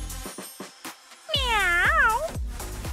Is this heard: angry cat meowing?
yes